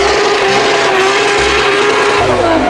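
A toy race car from a set of Tayo-themed toy vehicles gives off a loud, steady mechanical whirring and rumbling that stays continuous throughout.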